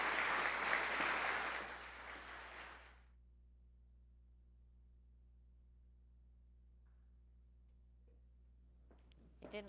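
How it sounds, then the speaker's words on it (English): An audience at a regional State of the Region event applauds in a steady burst of clapping for about three seconds, then it cuts off into near silence with faint room noise. "Round of applause"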